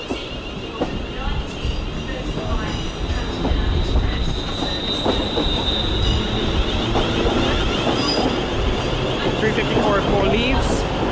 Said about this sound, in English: Meanwhile, a 350 is arriving to platform 13.